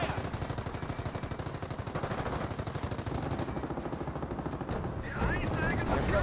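Rapid machine gun and small arms fire in a Company of Heroes battle, a dense continuous rattle of bursts running throughout, loud and close, with a faint voice talking late in the clip.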